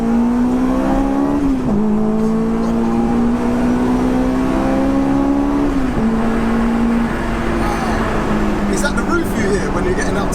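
A supercharged HKS Honda S2000 producing 416 bhp holds a loud, continuous high-rpm engine scream close up, the pitch climbing steadily and then dropping briefly at each gear change before rising again, with faint rushing road noise underneath.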